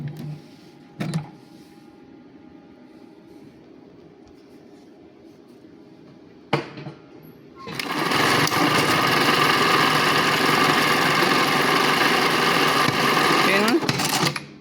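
A Juki LBH-1790S buttonhole sewing machine runs loudly and steadily for several seconds as its knife cuts the fabric, preceded by a few sharp clicks and quieter mechanical hum.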